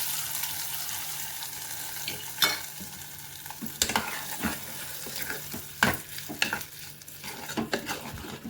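Water poured into a hot tempering pan for a dal triggers a loud hiss and sizzle, with several sharp bursts and clinks of stirring over a continuous frying crackle, no voices.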